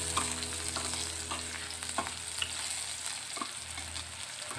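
Onions with green and red chili peppers fry in a pan, giving a steady, close sizzle with occasional stirring clicks and scrapes, with no voices.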